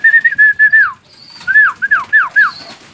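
Pigeons coming back to their loft through a trap door, with a series of loud, close, falling whistle-like calls in two bursts around a short pause.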